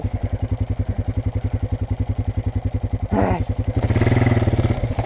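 A Honda dirt bike engine revved in third gear, wide open, through a big mud pit: a loud, close, rapidly pulsing engine throb that surges into a heavier, sustained roar toward the end, with no talk.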